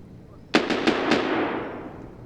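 Gunfire in a shooter game: four rapid sharp shots in quick succession, loud and close, with a long ringing tail fading out afterward.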